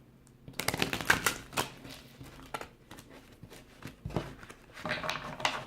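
A deck of tarot cards is shuffled by hand at close range, giving quick rapid riffles and soft slaps in bursts with short pauses in between, in a quiet room.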